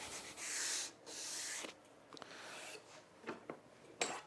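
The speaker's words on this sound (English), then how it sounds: "Just give it a quick sand with some sandpaper." Sandpaper rubs along melamine edgebanding in a few quick, close strokes, a soft hissing scrape followed by lighter brushing and small taps.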